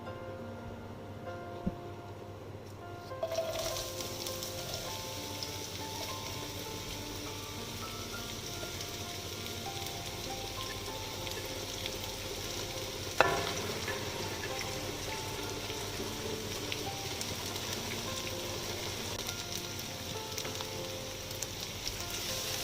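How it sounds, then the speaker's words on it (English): Chopped onions sizzle steadily in hot oil in a pan while cooking for goat meat, a continuous soft frying hiss that starts abruptly a few seconds in, with one sharp clink of stirring partway through. "And stir it to avoid our onion from burning, from cooking one side"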